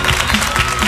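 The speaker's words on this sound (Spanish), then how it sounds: "No tuvo aplauso, aplauso para Germancito" Applause from a television game show studio audience, a steady wash of clapping filling the whole second at moderate loudness.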